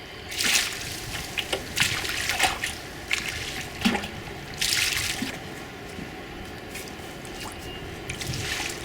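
Water poured onto manure in an aerobic black walnut compost pile, giving close, wet splashing and squishing in uneven bursts, with dripping and trickling in between.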